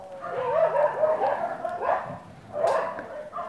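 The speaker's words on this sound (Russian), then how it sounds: "Собаки на улице бегают." Several dogs bark outdoors on a street in the evening in Sloviansk, a few repeated barks and yips at moderate distance, steady and fairly loud with no talk over them.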